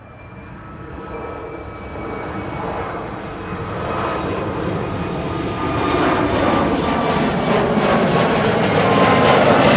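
A jet airliner departing Amsterdam Schiphol runway 24 for New York JFK, its engine roar rising steadily in loudness and pitch as it spools up and rolls, with no voices.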